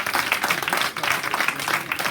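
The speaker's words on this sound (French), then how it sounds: "tout le monde applaudit que Alice" Audience clapping at a hackathon project presentation, a steady dense patter of many hands that carries on throughout without a break.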